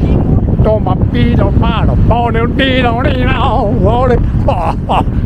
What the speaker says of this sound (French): Il fait un vent de folie.